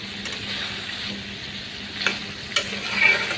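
Chicken lotpoti, with gizzard and liver, sautés in oil with a low, steady sizzle, broken by a few sharp scrapes and clinks of a stirring spoon against the pan.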